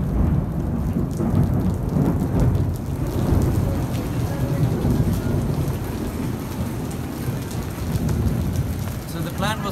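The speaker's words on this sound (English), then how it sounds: "So here we are in the middle of the storm." Heavy rain pours steadily during a thunderstorm in Mayapur, with low rumbling thunder rolling underneath, a dense, continuous and fairly loud wash of sound without talk.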